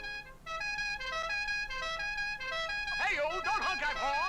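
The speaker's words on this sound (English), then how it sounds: "don't honk that horn" A car horn honks in a 1969 monster film, sounding as a series of sustained tonal blasts, loud and close, with shouting voices breaking in toward the end.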